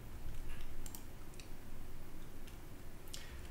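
Quick, light clicks of typing on a computer keyboard, a few scattered keystroke taps over a steady background hiss with no voice.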